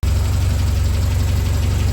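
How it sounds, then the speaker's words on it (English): A 1962 Triumph TR4 engine idles close by with a steady, rhythmic exhaust pulse, its low throbbing beat starting abruptly and continuing evenly throughout. "the exhaust sounds much better now."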